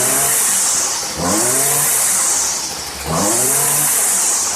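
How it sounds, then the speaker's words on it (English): A Stihl FS 56RC string trimmer engine revs hard and loud, rising and dropping in pitch twice as the throttle is worked, with a high buzzing whine over the top. "With my idle speed adjusted, I'll throttle up and see if I need to adjust the H or high screw set."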